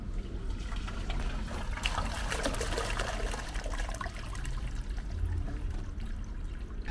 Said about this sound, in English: Can you flush any toilets you've got for me?